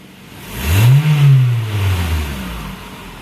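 A noisy Toyota Camry engine revs once, its pitch climbing quickly and then sinking back toward idle, loud and close, with a rough edge to the tone.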